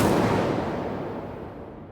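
A single booming fire blast from the Incendio spell in the Hogwarts Legacy video game, loud at the start and then a broad roaring wash that slowly decays over about two seconds.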